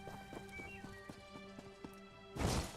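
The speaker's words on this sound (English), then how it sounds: "I keep forgetting I have a horse I can ride." A horse's hooves clip-clop in Elder Scrolls Online, a quick irregular series of hoof strikes over a game music backdrop, ending in a louder rushing burst.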